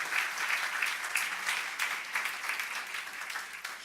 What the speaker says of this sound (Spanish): Damos un aplauso, lo hacemos todos.